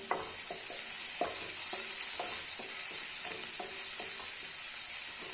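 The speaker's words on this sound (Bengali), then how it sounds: "উচ্ছেগুলো ভালো করে ভেজে নিতে হবে, বেশি ভাজলে তাহলে তেতো ভাবটা কেটে যায়, তেতো লাগে না।" Bitter gourd slices fried crisp in a pan while being stirred: a constant bright sizzle of hot oil with a regular series of soft spatula knocks and scrapes, close up, with nobody talking.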